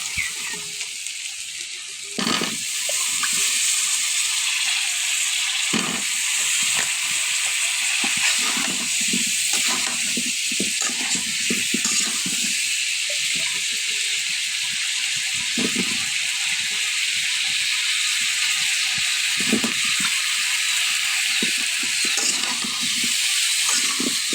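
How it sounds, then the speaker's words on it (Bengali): Hog plums fry in oil in a pan for a pickle, giving a continuous close sizzle with scattered louder crackles and pops. The hiss stays steady throughout, with no voices over it. "আমরাগুলোকে আমি একটু ভেজে কষিয়ে নিব"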